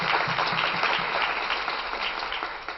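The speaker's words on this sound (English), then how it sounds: "a round of applause for Mamadou" An audience applauds Mamadou, director of the DC Mayor's Office on African affairs, at a keynote event: sustained, even clapping from a large crowd that tapers slightly toward the end.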